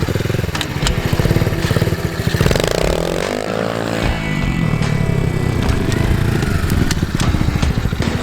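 A Pitster Pro 90 pit bike engine runs loud and steady while ridden with an adult and small child aboard, its buzzing drone rising and falling with throttle changes, close throughout with no talk.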